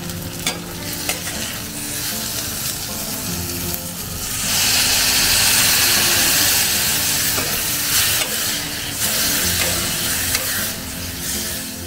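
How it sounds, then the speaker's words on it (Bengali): A spice paste of mustard paste, chilli, cumin, coriander, Kashmiri chilli and turmeric fries in a pan, hissing loudly and steadily while being stirred and scraped, the sizzle swelling midway. "এবার মশলাটা দিয়ে কষিয়ে নেব। সর্ষে বাটা, লঙ্কা গুঁড়ো, জিরে গুঁড়ো, ধনে গুঁড়ো"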